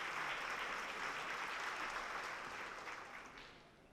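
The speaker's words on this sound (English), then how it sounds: "Give yourselves a big round of applause for being here for this special occasion." A large audience at an evening education event claps in a broad, continuous wash of applause, heard from a distance and slowly fading toward the end.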